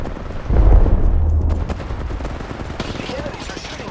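Gunfire in the video game Apex Legends during a tournament match, a loud dense burst of shots at the start that trails off into rattling and noise over a few seconds.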